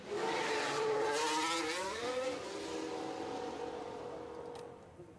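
Video-game Formula 1 car in F1 Manager 24 running on track, a steady high-pitched engine whine with rising and falling pitch as it shifts gears, loud and continuous with no talk.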